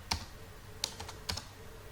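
Java code being typed on a computer keyboard: a few sparse, faint keystroke clicks spaced apart in a quiet room, no speech.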